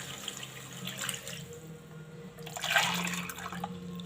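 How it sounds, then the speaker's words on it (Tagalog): Water pours steadily into a cooking pot of sautéed bugitis sea snails in their shells, a home-cooked Bicolano dish, with a close, rushing splash that swells briefly near the end. "So, lalagyan na natin siya ng tubig."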